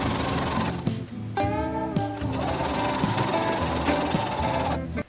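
A sewing machine runs steadily while stitching quilt pieces, a loud continuous whirring hum with brief dips and changes in pitch as the pace shifts, and no voice over it.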